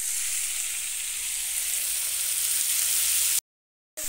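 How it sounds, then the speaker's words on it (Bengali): Bottle gourd pieces frying in a wok give a steady, close sizzle that continues evenly for a few seconds before cutting off abruptly into silence. "দেখো কড়ার মধ্যে লাউ দিয়ে দিয়েছি, এইবারে দেবো ভেজে রাখা আলু"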